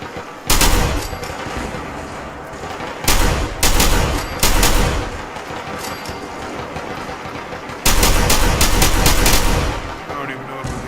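Bursts of automatic gunfire aimed at turrets in the video game Fallout 4, loud and close, coming in several long volleys with brief gaps between them, with no talk over the shooting.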